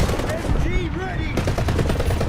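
Rapid machine gun fire from the War Thunder video game rattles loud and close in dense bursts, with a voice faintly present beneath the shooting.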